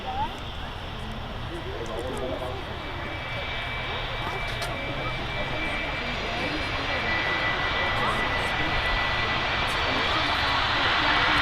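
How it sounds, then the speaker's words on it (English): Icelandair Boeing 757 jet rolling off the runway at Manchester Airport, a steady loud engine roar and whine that builds slightly, with voices talking over it outdoors. "Iceland Air just vacating the runway there. 757 are flying today."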